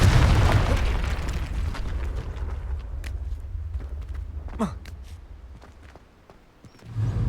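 A Confringo spell explodes in Hogwarts Legacy with a loud, rumbling boom right at the start, then the roar fades through crackles and debris, and a fresh rumble swells at the end.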